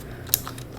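A single quick keystroke clicks on a computer keyboard, a brief sharp tap over a quiet background.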